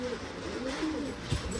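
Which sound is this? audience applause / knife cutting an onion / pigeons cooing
pigeons cooing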